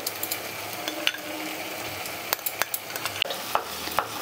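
Spiced yogurt mixture cooks in a wok over low flame, a soft sizzle punctuated by repeated sharp clinks and scrapes of a spoon stirring against the metal, with no voices.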